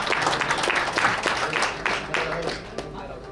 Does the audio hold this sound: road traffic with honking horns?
no